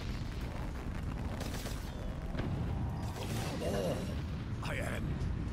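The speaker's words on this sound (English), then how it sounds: "Now you're about to see the rocket launch" Within Call of Duty Black Ops 3 Zombies on the Ascension map, a rocket launch sequence rumbles with a steady low roar and rising whooshes, dense and loud throughout.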